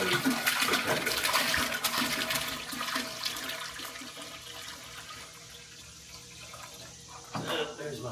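Water pours into a brewing kettle on a homebrew day for an IPA and an orange wheat beer, a steady rushing splash that stays loud and even before easing slightly toward the end.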